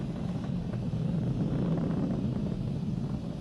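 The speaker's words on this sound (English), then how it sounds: "Vehicle is supersonic. We've exceeded Mach 1 on the Falcon 9." A SpaceX Falcon 9 rocket in supersonic flight past Mach 1 during the Launch America mission: a steady, loud, broadband roar with low rumble, continuous throughout with no pauses.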